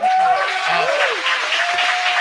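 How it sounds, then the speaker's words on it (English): A studio audience gives a round of applause, steady dense clapping heard fairly close, with a faint voice briefly sliding in behind it. "Ladies and gentlemen, round of applause for yourself real quick"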